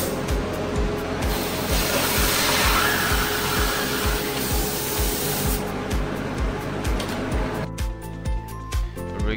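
A DIY 1500W water-cooled fiber laser cuts metal with a loud, steady hissing rush of assist gas, overlaid by a pulsing mechanical rhythm. The noise cuts out abruptly near the end, leaving a quieter hum.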